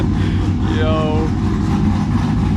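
Car engine idling with a newly installed Chopacabra cam, a loud, low, choppy rumble with an uneven lopey pulse, close by, while a voice speaks over it.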